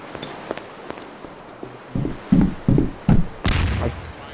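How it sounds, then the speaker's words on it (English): Several gunshots go off in a video game, about five loud, punchy low bursts in quick succession followed by a sharper crack, after a stretch of quieter clicks and steps. "Oh shit, gunfire set me off, bro."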